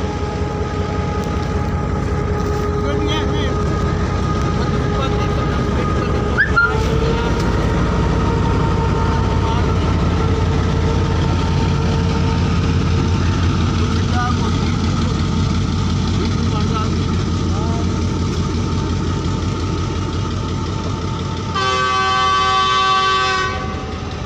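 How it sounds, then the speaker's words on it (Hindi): A train rolls steadily through Attock railway station, its engine rumble and wheel noise sustained and loud throughout, with a brief sharp clank partway and a bright horn-like tonal burst near the end. "देखो रेल गड्डी जा रही है कैसी जबरदस्त जा रही है।"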